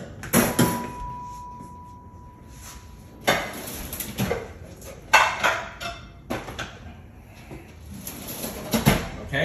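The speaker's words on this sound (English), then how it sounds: "I'm gonna go ahead and crack 2 eggs here." Two eggs cracked into a glass baking pan in a home kitchen, heard as a few sharp taps and clinks on glassware with faint clatter and handling noise between them, close by and without speech.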